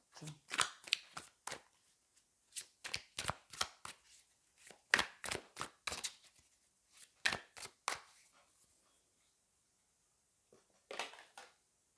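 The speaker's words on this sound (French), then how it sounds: "je vais prendre une autre carte" Playing cards are handled and shuffled close up in bursts of crisp riffling and snapping, with pauses and a final brief flurry.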